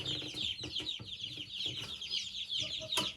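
Baby chicks peep continuously in a shed, a busy chorus of high, rapid cheeps close by with a few soft knocks underneath.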